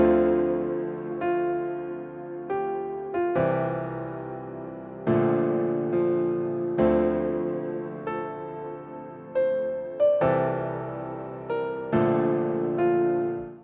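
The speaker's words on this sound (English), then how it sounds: "And now all together, that first piano layer sounds like this." Soft piano chords ring out and decay one after another, forming a slow, emotional melody with a warm low end and no voices.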